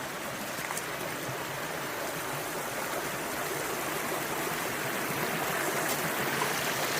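Creek water flows steadily through a wildlife reserve, a constant close rushing and babbling wash with no speech.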